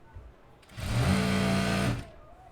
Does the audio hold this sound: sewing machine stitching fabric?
yes